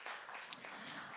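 Audience applause for panelists at a peace forum, a dense, fairly faint patter of many hands clapping continuously throughout.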